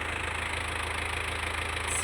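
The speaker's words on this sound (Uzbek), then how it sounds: "O'zlarining traktorini minib keldi, Belarus mana." A Belarus tractor engine idles steadily and close by, a continuous low rumble with a fine regular pulse running unbroken through the whole stretch, with no voices over it.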